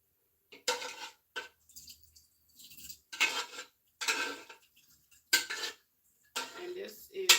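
A utensil scraping cooked beef out of a metal pot for home meat canning, a series of short bright metallic scrapes and clinks with quiet gaps between them, close up.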